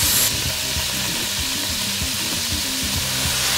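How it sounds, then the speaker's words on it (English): Calamari sizzling and frying in a hot pan while it is stirred with a utensil, a steady loud crackle with the rhythmic scrape and clatter of mixing running all the way through. "let's throw our calamari in"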